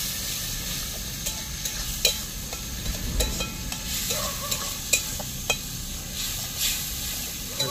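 Tomato frying with spices in a pan for a village-style duck curry: a steady, close sizzle and hiss broken by intermittent scraping stirs and clinks from the utensil.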